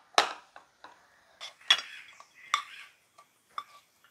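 Mutton boti fry being moved into a serving dish: a handful of sharp metallic clinks and scrapes of a spoon against pots and plates, spaced irregularly and close by in an otherwise quiet room.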